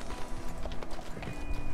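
Horse hooves clip-clopping in the Red Dead Redemption 2 video game, a steady walking rhythm of moderately close hoofbeats over a low background hum.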